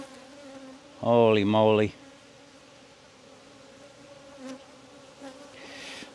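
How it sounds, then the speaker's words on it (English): Honeybees boil up from an opened hive box as it is lifted, a steady buzzing drone that runs the whole time beneath a short burst of a startled voice. "It's hard to do this without killing bees because there's so many"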